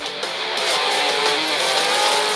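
A field of 800-horsepower pro 4x4 trucks races at Crandon International Raceway, engines roaring loud and continuous with tire squeal and skidding over a dense, close wall of motor noise.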